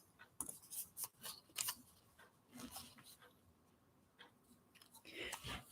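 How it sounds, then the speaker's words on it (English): Scissors snipping out paper sunflower embellishments, a run of quick crisp cuts followed by scattered slower snips, faint and close, with soft talk in between. "we need to cut out the little guys here"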